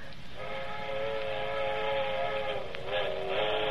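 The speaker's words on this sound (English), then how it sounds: "That's what I like best, them train whistles." A train whistle sounds in a steady, sustained blow, holding its harmonic pitch for several seconds and swelling slightly toward the end, fairly clear over quiet background hiss.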